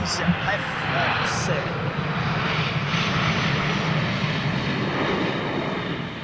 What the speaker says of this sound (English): CFM 56s with the clamshell reverser style reversers.